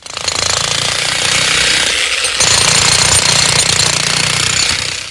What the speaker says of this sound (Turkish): şimdi de inşaat betonlarını kırarak hazırlanıyor